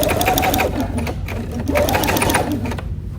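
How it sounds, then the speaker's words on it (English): A sewing machine with a walking foot back stitches through a quilt, its rapid steady whir running loud and close for the whole stretch and briefly slowing at the reversal point, with no voices. "Now this time I really want it to stay together, so I'm gonna back stitch it and make sure that it's gonna stay there."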